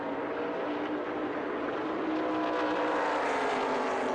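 ARCA stock cars roar into turns 1 and 2 at Rockingham, a dense, sustained engine drone heard at a distance that swells slightly louder toward the end.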